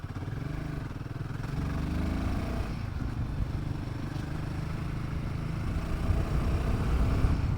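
A motorcycle rides along a highway past a toll, its engine droning steadily and loud throughout. The pitch shifts a little as it gets going, and no one talks over it.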